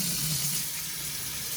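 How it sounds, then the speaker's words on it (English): Cool tap water runs steadily over frozen shrimp in a home kitchen, making a close, continuous rushing hiss with no talk. "I'm just going to be running some cool water over the shrimp to get them to kind of get rid of the ice crystals"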